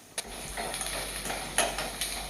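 Sliced onions and green chillies frying in a pan, a steady soft sizzle with a few sharp scrapes and clinks of a stirring spoon against the metal, close up with no voices.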